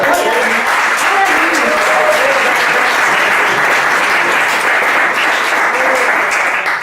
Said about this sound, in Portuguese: Só uma salva de palmas.